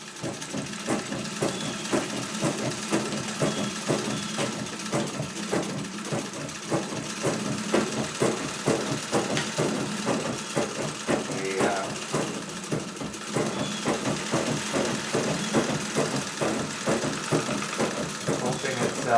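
Treadle sewing machine quilting a star quilt, a rapid, regular mechanical ticking and thumping that runs continuously at moderate volume, with a person talking faintly in places.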